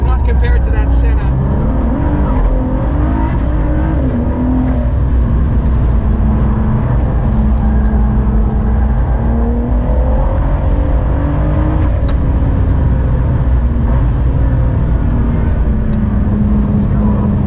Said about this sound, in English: I'm driving Tim's cars, and I'm not going to go completely crazy